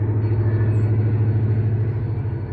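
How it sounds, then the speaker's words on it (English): Freight train locomotives labor up a hill, a steady, heavy low rumble and engine drone that holds evenly throughout with no voices. "The sound of those locomotives coming up this hill never gets old."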